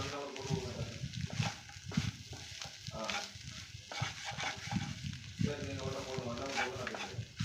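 Shark meat puttu is sautéed and stirred in a pan, with steady scraping and soft sizzling continuing throughout under a talking voice.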